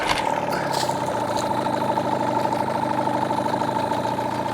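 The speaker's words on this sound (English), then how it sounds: "Let's go ahead and fire this up again and let it idle for 10 minutes for its break-in period" A Hangkai 18 hp outboard motor idles steadily during its break-in run, a moderately loud continuous mid-pitched drone with a fine rapid pulse and no talking.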